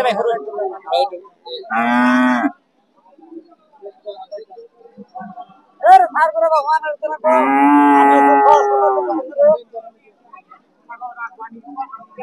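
A Jersey heifer calf at a cattle market gives two long, loud, close moos, separated by shorter scattered sounds and quiet gaps.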